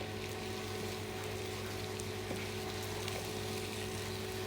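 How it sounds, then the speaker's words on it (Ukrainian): Buckwheat toasting in oil in a pan, a faint continuous low sizzle with a steady hum underneath and no talking. "Гречку треба піджарити, бо була розсипчаста така файна"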